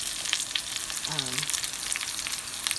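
A steak sears in a hot pan, giving a steady, fairly quiet sizzle and crackle throughout, with a brief tonal whine partway through and no one speaking.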